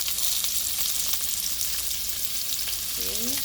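Chopped onions hit hot oil with a spoonful of sugar in a pan, bursting into a loud, dense sizzle close by that holds steady throughout, with a brief tonal squeak near the end and no talk.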